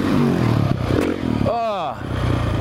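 A motorcycle engine revs briefly before a jump, a short rising and falling whine under a voice talking.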